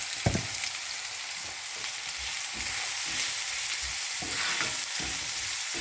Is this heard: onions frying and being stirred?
yes